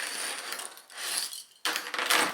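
A sewing machine stitching skirt fabric, with bursts of mechanical whirring and clatter separated by brief pauses, close and fairly loud, with no talking.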